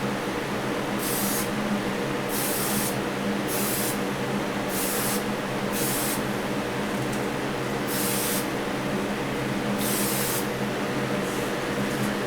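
A steady hiss of blue metallic paint spraying onto a 1968 Pontiac Firebird in a homemade spray booth runs continuously in repeated bursts, loud and close, over a constant fan-like hum.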